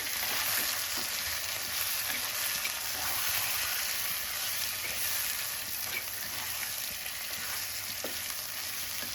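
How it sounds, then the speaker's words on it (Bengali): Chicken being stirred as it fries in a pan for an Indian-style dish, a steady loud sizzle with soft scraping of the spoon throughout, no voices. "এবার আবারও ভালোভাবে নাড়াচাড়া দিয়ে নিচ্ছি।"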